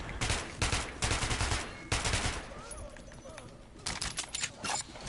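Bursts of rapid automatic gunfire from Nazi soldiers in the video game Metro Last Light, loud repeated volleys with short gaps between them, with a voice speaking during a quieter stretch.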